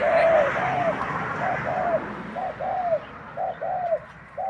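A spotted dove coos repeatedly in short, evenly spaced phrases against a steady outdoor background hiss.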